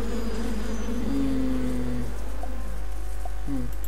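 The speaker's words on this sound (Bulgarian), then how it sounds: "Пчели зажужжат тук." Bees buzzing in the Wizard101 video game, a steady droning hum with a few brief tonal swoops over a constant low background, no talk.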